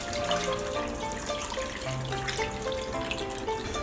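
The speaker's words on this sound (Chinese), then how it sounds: "加入适量清水" Clean water is poured into a pot of chicken, ginger and herbs for Sichuan-style chicken soup, a close, steady splashing trickle with shifting pitch as the level rises, without any talk.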